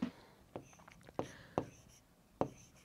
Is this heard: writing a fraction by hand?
yes